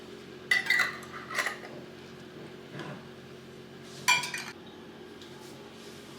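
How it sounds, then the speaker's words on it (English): Glass canning jars of tomato paste, lids finger-tight, are lowered with a jar lifter into a pot of water that is not yet boiling. A few separate sharp glass clinks sound against a steady low background hum. "using the jar lifter, you can put the jars in the water"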